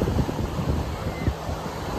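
Steady broadband surf roar of sea waves on a beach in Albania, with wind buffeting the microphone, waves washing continuously at moderate loudness, no voices.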